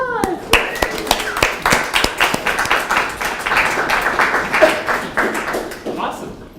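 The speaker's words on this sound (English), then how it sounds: "Round of applause." An audience applauds a welcomed guest, with brisk, close hand claps forming a lively round that tapers off after about six seconds.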